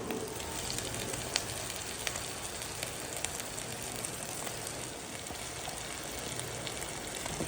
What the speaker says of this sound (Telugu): ఇప్పుడు మనం ఒకటి చేప ముక్కలు వేసుకోవాలన్నమాట